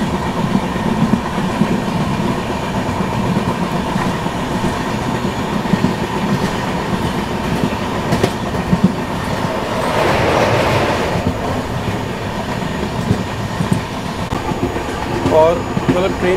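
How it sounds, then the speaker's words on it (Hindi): The Chennai Rajdhani Express runs at speed, giving a loud, continuous rumble with rhythmic wheel clatter throughout and a brief squeal of the wheels near the end. "ट्रेन की मैं बात करूँ तो काफ़ी अच्छी खासी रफ्तार में चल रही है"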